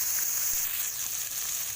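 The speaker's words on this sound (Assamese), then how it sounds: "এইখিনি অলপ মই ভাজি ল'ম, বেছি ফ্ৰাই নকৰোঁ, অকণমান ভাজিম।" Fish frying briefly in hot mustard oil, giving a soft, steady sizzle with a faint crackle, close by and without any talk.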